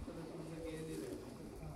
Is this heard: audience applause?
no